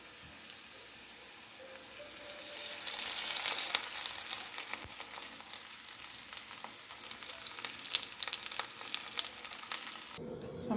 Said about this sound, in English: you're going to place this back into the frying pan